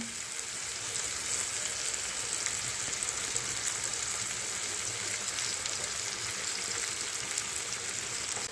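Onions and green chillies fry in a pan with oil, giving a steady, dense sizzle that holds evenly from start to finish, close and with no talking.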